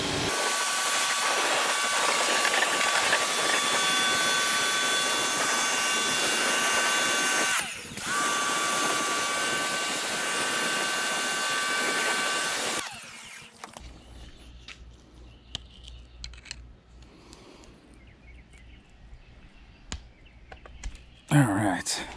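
A pressure washer sprays water across a Harley-Davidson Street Glide motorcycle, a loud steady hiss for about thirteen seconds with a brief dip partway, then cutting off to quieter handling noises and a short burst near the end.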